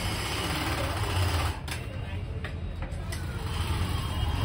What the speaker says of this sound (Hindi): सिलाई चालू है भाई